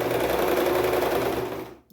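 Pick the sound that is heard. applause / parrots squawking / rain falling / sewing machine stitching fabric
sewing machine stitching fabric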